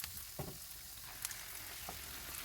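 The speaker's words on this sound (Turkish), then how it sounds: "1-2 dakika kokusu çıkana kadar kavurmaya devam edelim." Faint, steady sizzling of tomato paste and garlic sautéing in a pan, with a few soft scraping stirs.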